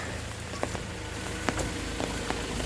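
A constant wash of falling rain hisses evenly over an oil palm plantation in Thailand, with occasional sharper drips standing out against the steady noise.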